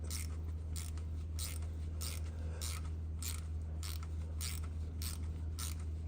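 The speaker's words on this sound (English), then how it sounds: "So I'm just gonna tap this down until it stops." A hand tap cuts fresh threads into a stripped oil feed fitting hole on a transmission, giving a steady series of about eight evenly spaced scraping clicks up close over a constant low background hum.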